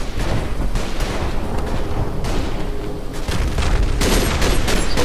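Loud gunfire from hip-fired rifles in the World War I shooter game Verdun, with sharp close shots and booming reports over a constant battlefield din, growing heavier toward the end.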